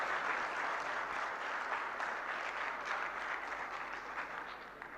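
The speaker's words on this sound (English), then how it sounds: "a round of applause for our chair of the session, Dr. Parvez Tahir" A conference audience applauds the session chair, Dr. Parvez Tahir, at an economics lecture, with steady, full clapping that eases slightly near the end.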